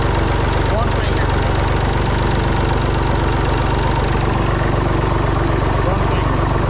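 A Massey Ferguson 245 diesel tractor engine idles steadily and loudly up close, its low rhythmic chug continuing throughout with a person talking over it.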